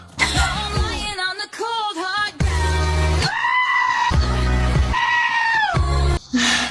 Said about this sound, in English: I think the goat screaming video qualifies as retro.